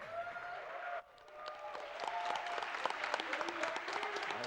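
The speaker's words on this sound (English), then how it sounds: "let's give a round of applause for Dolphindasher, Legend of Korra run." Applause rises from a live audience at a speedrun marathon event, AGDQ 2017, for a Legend of Korra run: dense, steady clapping that starts after a brief lull and fills the room for several seconds with no talk.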